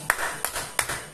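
Four spaced hand claps from a single person, slow and evenly paced, close and moderately loud.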